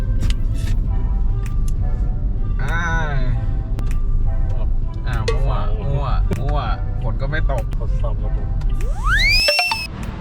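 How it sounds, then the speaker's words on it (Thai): A car drives along the road with a constant low rumble inside the cabin, while people talk and chime-like tones sound over the engine noise. "ขับรถไปอีก 36 นาที ก็ขับไปเรื่อยแล้วกันไปละ"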